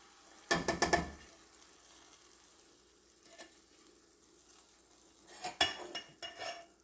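Ranchero beans stirred in a pot over a medium flame, with a cluster of quick scraping, clinking strokes at the start and another burst near the end, softer sizzle between.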